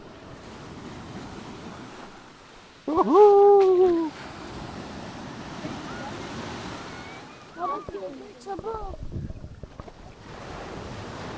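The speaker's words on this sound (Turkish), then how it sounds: "O kadar da dalgalı değil dedik, dalgalıymış." Sea waves wash and surge onto the beach at Kaputaş, a steady close surf with wind buffeting the microphone, while people talk briefly and a child calls out over the water.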